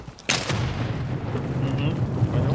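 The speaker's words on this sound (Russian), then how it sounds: "Вот где взрыв сейчас будет, граната." A grenade blast in Escape from Tarkov hits as one sharp, loud boom, then trails into a rumbling, diffuse decay while someone talks quietly over it.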